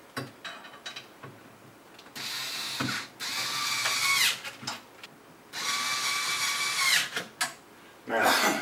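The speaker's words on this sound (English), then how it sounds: "Then go ahead and tighten the screw." Screw tightened with a power driver while a wine cooler is fitted into place: three bursts of broadband whirring with a rising tone, each a second or two long, separated by short pauses, close and moderately loud.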